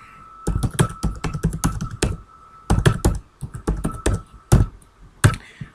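Rapid bursts of typing on a computer keyboard, entering a username and password while setting up a Windows Server 2019 virtual machine in Microsoft Azure, with clustered key taps separated by short pauses, close and clear without talk.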